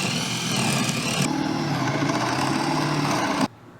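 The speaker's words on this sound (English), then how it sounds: "So with my cord run now, I'm going to drill across this way" A power drill bores through a vintage camper wall, giving a loud, steady whirring buzz that holds for over three seconds, shifts pitch slightly partway through, then cuts off abruptly.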